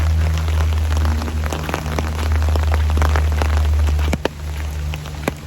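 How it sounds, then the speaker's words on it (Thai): Steady rain falls on an outdoor surface during an all-day downpour, a dense continuous patter with scattered sharper drips close by and a low rumbling undertone. "ฝนตก"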